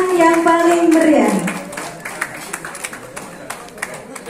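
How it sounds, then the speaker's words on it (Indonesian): Audience applause at a tumpeng-cutting ceremony for the inauguration of the LADISNU, HISNU and P3MI boards. It comes as sparse, scattered claps at a moderate distance, following a brief voice at the start. "Kita berikan tepuk tangan yang paling meriah."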